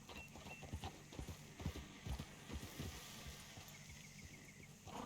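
Horse hooves clip-clop in a steady riding gait through the Red Dead Redemption 2 countryside, sharp close hoofbeats over a low ambient bed, with no talking.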